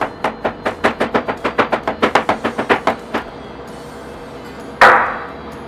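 A knife slices a cucumber into rounds on a cutting board: about sixteen quick, evenly spaced close chops, then a short pause and one final louder knock.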